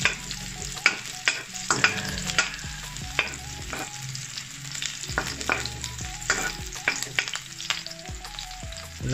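Garlic and onion sauté in a pan, sizzling steadily at close range while a utensil stirs and scrapes in irregular bursts; no voices.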